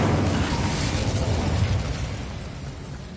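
Incendio fire spell from Hogwarts Legacy bursts in a loud, dense whoosh of flame that fades out over a few seconds, with no talking.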